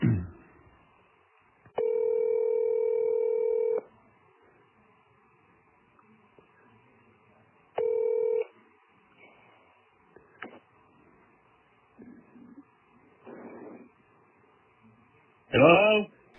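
A phone call is placed, with long steady ringback tones under a quiet background, followed by a short burst of voice at the end.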